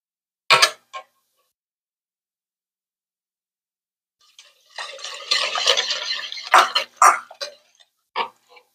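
Chopped strawberries are stirred into a hot mixture in a bowl: two sharp clinks, a quiet pause, then a stretch of close, wet scraping and mixing punctuated by several spoon taps against the bowl.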